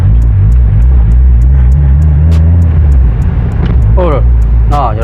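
A Honda Integra drift car knocks from a worn bushing or engine mounting, heard as a low engine rumble with dull thumps while someone talks over it up close.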